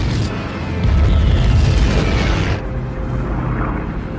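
A loud, deep explosion booms from a German aircraft bombing raid, a sustained rumbling blast that swells then fades into a lingering low roar.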